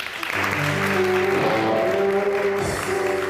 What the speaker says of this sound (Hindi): आपकी तालियां बताएंगी।